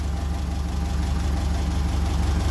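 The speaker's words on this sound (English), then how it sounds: "So listening to that engine, it does seem to be happy." An old engine running on thick SAE 30 mineral oil idles steadily up close, a low, even throbbing with a faint regular knock that stays constant and fairly loud throughout.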